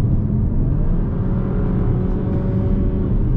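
A 2020 Jeep Compass Limited straining to accelerate on a test drive: a loud, steady low engine drone and road rumble from inside the cabin, holding level without any sharp rise in revs.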